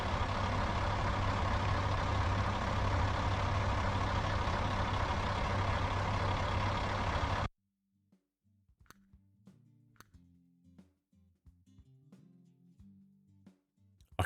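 A video game truck engine rumbles loudly and steadily for several seconds, then cuts off abruptly, leaving quiet clicks and faint taps.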